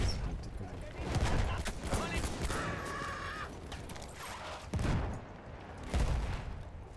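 Gunfire and booming battle noise in the World War I shooter game Battlefield 1, a dense continuous barrage with heavy low thumps and bursts, while a player talks over the din.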